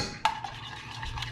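A spoon clinks once against a pan, then stirs a sweet and spicy mango pickle wing sauce as it cooks down, with soft scraping close by.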